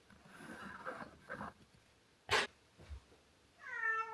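A cat gives a clear meow near the end, preceded by faint rustling and a few soft thumps in a quiet indoor room.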